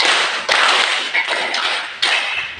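A classroom clapping game continues with a handful of sharp group claps spaced unevenly across a dense, steady background of room noise, close and fairly loud, without speech.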